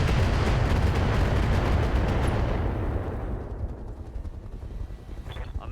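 Artemis 4 long-range missiles launch in the RogueTech mech game as a dense, loud roaring barrage of rocket fire, which gradually thins and fades toward the end.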